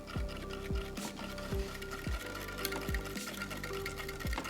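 Sugar water bee feed is stirred in a container, a steady rhythmic swish of liquid repeating about twice a second, close and alone with no talking.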